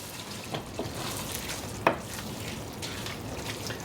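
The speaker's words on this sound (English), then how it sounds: "I'm going to go ahead and add the frozen peas in because they're going to cook in the oven" Frozen peas tumble into a cottage pie filling in a pan, a soft sizzle and stirring with one sharp clatter near the middle, quiet and close with no voices.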